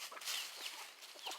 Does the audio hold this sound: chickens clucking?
yes